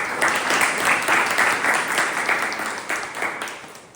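A Toastmasters club audience bursts into steady, sustained applause, many hands clapping together at close range, holding strong before tapering slightly toward the end.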